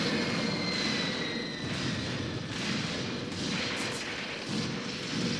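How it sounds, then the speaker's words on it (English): Artillery bombardment rumbles through a World War II tank warfare video game set at Longstop Hill, Tunisia, 1943: a dense, continuous roar with aircraft-like engine drone and muffled blasts, no talk. "They're still trying to bombard us. I mean, they do have a lot of artillery."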